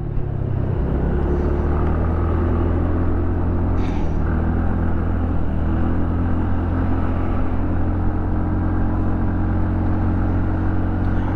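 A vehicle engine drones loud and constant as it labours up a very steep climb on the Ekvira palkhi route, a heavy low rumble that holds without gaining pace, with no speech.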